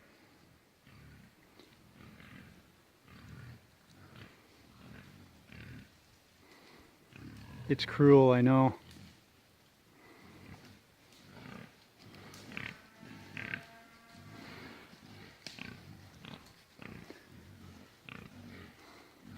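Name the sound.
pigs oinking and grunting in the woods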